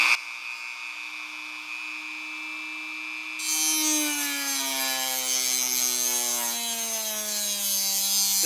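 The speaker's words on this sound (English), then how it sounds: "I'm on speed number 6 on this Dremel 300." A Dremel 300 rotary tool running at speed 6 whines steadily, then plunges into the workpiece at about three seconds, adding a louder, harsh grinding, sawing rasp that continues close and steady to the end.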